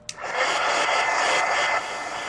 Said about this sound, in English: now let me take the heat gun, dry it, heat gun